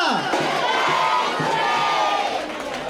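At a guru–disciple gathering in Ujjain, a large crowd lets out a loud, sustained collective cheer and chant for the guru, voices swelling together and holding for a few seconds.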